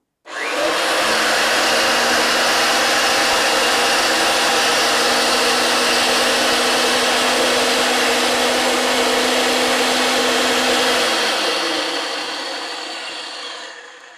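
Ridgid 916 roll groover forming a groove in a pipe: a loud, steady machine whine with a constant low hum and grinding friction, running unbroken for over ten seconds before gradually winding down.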